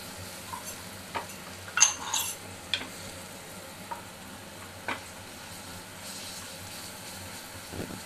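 Ginger and garlic paste sautéing in a pan for paneer samosa filling, a faint steady sizzle with a few sharp scrapes and stirring clinks scattered through, no voices.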